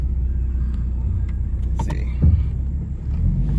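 A rebuilt 2012 Ford Mustang cruises slowly down a street, its engine giving a low, steady rumble from inside the cabin, with a brief bump and someone speaking briefly.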